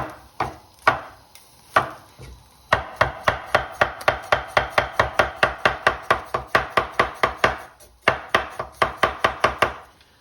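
A knife trims the edges off a piece of fresh ginger on a wooden chopping board. It makes a fast, steady run of sharp, close chops, a few spaced strokes first and then dozens in quick succession.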